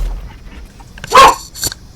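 A dog barks indoors, one loud sharp bark followed by a softer second bark, standing out against a quiet background.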